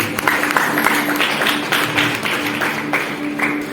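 A church congregation claps in scattered, uneven bursts against a faint steady hum, with individual hand claps standing out rather than forming a full ovation.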